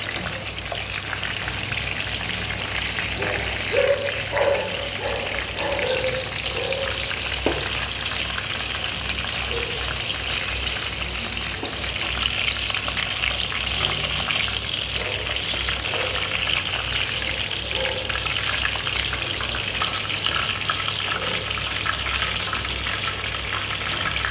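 Onions sizzle steadily in hot oil in a pan for a long stretch, a dense constant frying hiss with faint stirring clatter near the start.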